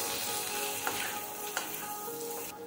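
Boiled potatoes and sesame seeds frying and being stirred in a pan for a fasting-style potato dish, a steady close sizzle with a couple of sharp scrape or stir clicks, no talking.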